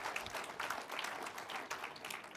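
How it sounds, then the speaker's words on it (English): Audience applause for university faculty and staff at a Women in Engineering keynote event, a steady wash of many hands clapping throughout, moderately loud and unbroken by speech. "We'll give you a round of applause."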